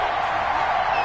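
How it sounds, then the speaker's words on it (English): Crowd noise from a football stadium in a PS4 football game, a steady, dense roar of cheering fans building ahead of a big third down, with no breaks. "the crowd getting into it as we come up on a big 3rd down"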